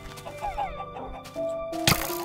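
Chickens cluck in a Minecraft hardcore survival world, a few short fowl calls rising over game music and effects, ending with a sharp hit sound.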